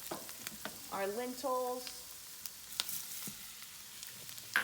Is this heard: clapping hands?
no